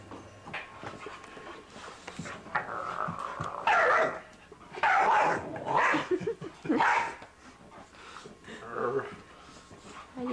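A dog gives a series of short barks and high yips mixed with whimpers, loud and close, in uneven bursts.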